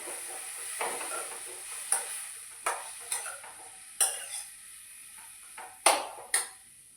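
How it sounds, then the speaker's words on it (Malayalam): An ivy gourd and okra stir-fry is stirred in a pan, giving a handful of separate scraping clanks spaced about a second apart. The strokes are close and distinct over a faint, steady sizzle, and no one speaks. "വെച്ച കോവയ്ക്കയും വെണ്ടയ്ക്കയും എല്ലാം കൂടെ ഇട്ട് കൊടുക്കുന്നുണ്ട് ഞാൻ. നന്നായി ഇളക്കിയെടുക്കാം."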